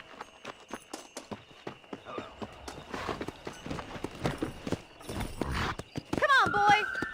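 Horse galloping in Red Dead Redemption, a quick rhythmic drumming of hooves growing louder and denser before the horse whinnies, with voices talking over the ride.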